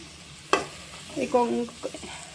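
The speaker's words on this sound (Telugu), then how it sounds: "ఇప్పుడు ముందుగా కట్ చేసి పెట్టుకున్న కొత్తిమీర కూడా వేసుకొని కలిపేసుకోండి" Ivy gourd fry being stirred with chopped coriander in a pan over a low flame: a sharp scrape of the spoon, then a few soft clinks and a faint sizzle, up close.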